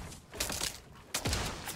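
Two loud, close bursts of AK rifle fire from the Fortnite Battle Royale video game ring out, each a quick rattling fusillade separated by a short pause, with no talk.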